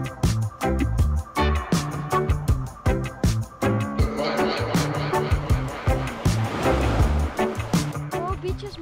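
Waves washing against rocky Pearl Beach on Koh Chang, Thailand, in rhythmic surges and splashes close by, with talking over the water.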